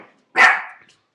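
A single sharp bark from a chocolate Labrador or West Highland terrier rings out close by, brief and loud, with near silence around it.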